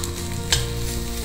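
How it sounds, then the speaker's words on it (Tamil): Garlic sizzles steadily in hot oil in a pan, a loud continuous frying hiss with one brief stirring scrape partway through. "இப்படியே நல்லா இந்த எண்ணெயிலே வதங்கணும்."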